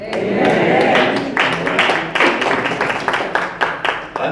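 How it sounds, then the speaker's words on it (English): An audience claps at a Mother of the Year 2018 event, a crowd's applause that swells, then breaks into scattered, uneven claps that trail off in sparse bursts toward the end. "I heard some clapping over there"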